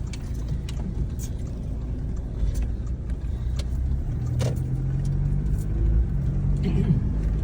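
A car drives along a highway, with a steady, close engine and road rumble from inside the vehicle that holds throughout and swells slightly toward the end.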